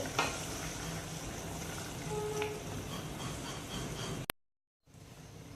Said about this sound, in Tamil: இப்போ சட்னி நல்லா கொதிச்சிருச்சு பாருங்கள்